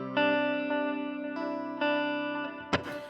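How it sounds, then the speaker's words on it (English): A sustained distorted electric guitar chord with echoing repeats that fade gradually, then a brief scrape of the strings at the end. "I love this delay. Listen to the repeats."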